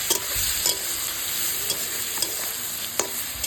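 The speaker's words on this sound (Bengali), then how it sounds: "এবার এটা একটু ভালো করে কষিয়ে নেব।" Spice powders (turmeric, chilli, cumin and coriander) with sugar sizzle in oil for a Bengali vegetarian curry, a steady close frying hiss broken by regular scrapes and taps of the stirring spoon, with no talking.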